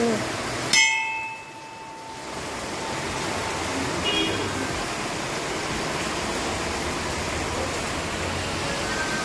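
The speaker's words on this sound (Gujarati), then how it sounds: "ટંકોરી વગાડતા ભૂલી ગયા આપણે વરસાદમાં." A small temple bell rings once, a bright metallic clang that decays over a few seconds, then steady heavy rain hisses on alone at a Shiva temple in Junagadh.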